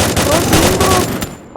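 Gunfire in the Free Fire video game: a rapid, loud burst of shots cracking in quick succession, then cutting off to near silence, with a voice partly talking over it.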